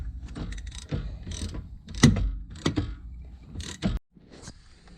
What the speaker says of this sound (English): Okay, I loosened the two bolts,